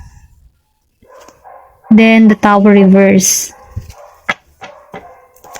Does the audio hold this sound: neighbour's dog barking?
yes